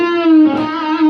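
An electric guitar plays a short tapped bending lick, a sustained distorted note that bends and wavers briefly before settling, loud and close.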